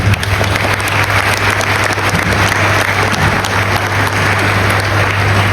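An audience at a blockchain conference applauds a panel, producing loud, continuous clapping that stays dense and even throughout, with a low steady hum underneath.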